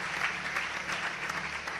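Steady applause from a church congregation, dense clapping that fills the space without a break and holds an even loudness throughout.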